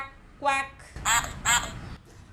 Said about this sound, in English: Peppa shows Richard how to feed the ducks. Quack, quack, quack, quack